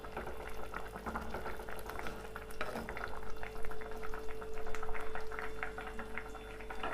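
A pot of Telugu-style water egg curry with whole boiled eggs simmers steadily on the stove, a continuous bubbling and gurgling at moderate loudness with no voices.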